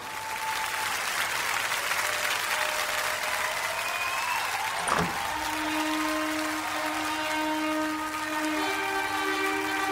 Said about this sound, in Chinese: 让我们再一次响起热烈的掌声，有请新娘入场。